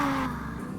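A passing car recedes over under a second, its engine noise loud at first and then fading, with a low rumble and no talking.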